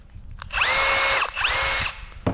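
A Flex 12V cordless screwdriver runs in first gear, giving two steady whining bursts of about a second each with spin-up and spin-down, loud and close with no talk.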